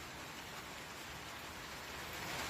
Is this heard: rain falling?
yes